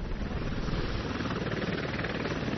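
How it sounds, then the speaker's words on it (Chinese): A helicopter lands near a battlefield equipment repair site, its rotor and engine giving a steady, dense drone throughout with no voices. "一架直升机悄然着陆"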